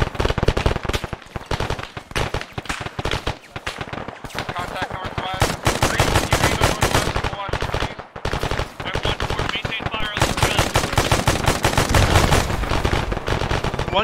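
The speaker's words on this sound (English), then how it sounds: "There's some kind of heavy gun." In the video game Arma, a heavy gun fires long rapid bursts of dense, loud automatic fire with brief pauses between volleys, and a voice is faintly heard underneath.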